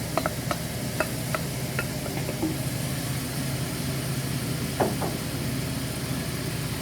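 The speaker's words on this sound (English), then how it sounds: "Now that my olive oil is warm, I'm going to add my carrots, parsnips, onion," Carrots, parsnips, onion and celery sautéing in warm olive oil for chicken noodle soup give a steady, even hiss under a low background hum, with scattered light clicks from stirring.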